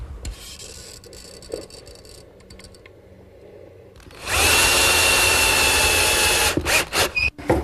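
A power drill drives screws into plywood at a miter saw workstation build: after some quiet handling knocks, a loud, steady whirring drill run takes over, then breaks into short stop-start bursts as the screw seats.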